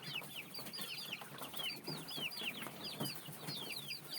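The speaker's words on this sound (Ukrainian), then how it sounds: "Живуть зараз у нас курчата." Young chickens kept indoors peep and cluck in quick, repeated high chirps, close by and fairly quiet. Several birds call over one another without pause, and no one speaks.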